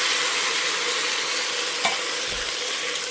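Coconut milk pours into a pot of green lentil dahl, making a loud, steady rushing hiss that runs unbroken throughout, with one soft knock near the end and no voices.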